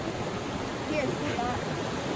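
Water rushes through a gold-panning sluice at Ness Country Park in Northern Ireland, making a steady, close, broadband splashing flow that fills the whole clip without a break.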